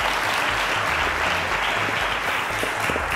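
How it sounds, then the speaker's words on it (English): Studio audience on a televised quiz show applauds steadily for a contestant, a dense, even wash of clapping that fills the whole stretch with a low hum underneath. "Round of applause for Tantan."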